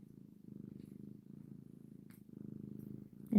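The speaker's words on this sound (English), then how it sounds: "She is purring like extra loud." A house cat purrs in a close, steady low rattle with rhythmic breaths, pausing briefly between cycles, ending with a soft rustle.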